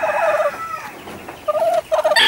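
A Dutch white-crested hen clucks in short bursts, close by, with brief pauses between the calls and no talking.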